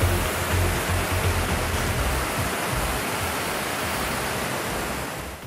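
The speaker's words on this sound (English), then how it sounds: "Thanks to servo control, the water flow rate and the pressure could be adjusted infinitely directly at the gun." A Karcher HDS 10/20-4 M high-pressure cleaner sprays water with flow and pressure adjusted at the gun, giving a loud, steady, broad rushing hiss that runs unbroken throughout.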